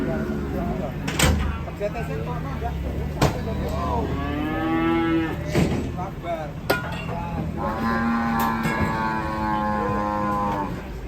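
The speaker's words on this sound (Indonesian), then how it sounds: "Ini ada sapi geletak guys." Cattle moo repeatedly in long, loud, close calls, with several overlapping lowing cries and people talking in the background.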